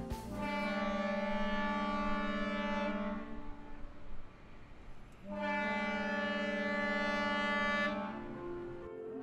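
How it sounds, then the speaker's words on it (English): An employee alarm siren at a Kraton plant in Belpre sounds in a weekly test, a loud rich harmonic wail that holds steady for a few seconds, cuts off, then blasts again. "This siren is only a test."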